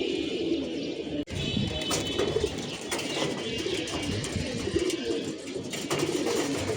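Pigeons coo on a rooftop in soft, repeated low calls, several birds close by over steady outdoor background noise.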